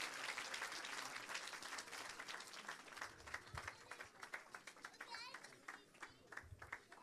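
A church congregation applauds, sustained dense clapping from a large crowd that thins into scattered claps toward the end, with voices mixed in.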